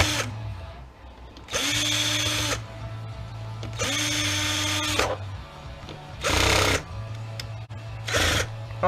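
A power drill drives screws while a Husky jump starter is taken apart for scrap, with several close whirring bursts of a few seconds each separated by short pauses.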